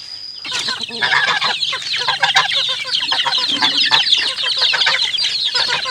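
Chickens clucking steadily, a dense, continuous flock chorus close by, being given homemade chicken feed, with no talk over it.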